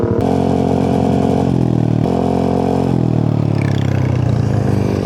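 A Yamaha Nmax Techmax scooter fitted with a 4S1M Street Core V3 exhaust is held at about 5,000 RPM. It gives a loud, steady, buzzing engine drone recorded close up, with slight pitch shifts as the throttle wavers, and no talk.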